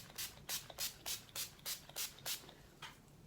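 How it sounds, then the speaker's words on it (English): NYX matte finishing setting spray is spritzed onto a face in about ten quick, soft hissing bursts at a steady rhythm, close but quiet, with no voices. "I'm gonna set my makeup with the matte finishing spray by NYX"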